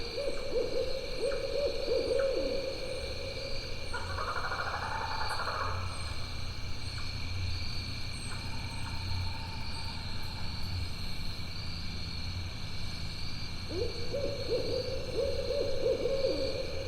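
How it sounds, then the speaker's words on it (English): An owl gives a few soft trilling hoots, one near the start and one near the end, over a steady chorus of crickets and insects. "So this is your screech owl again."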